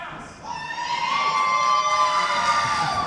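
A wrestling crowd at a Retinal Wrestling match cheers and shouts loudly in a sustained roar, with children's shrill voices rising above it and no distinct commentary.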